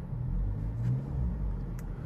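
A Hyundai Sonata, damaged in an accident, idles after being started: a low, steady engine rumble close by, with a couple of faint clicks and no talk over it.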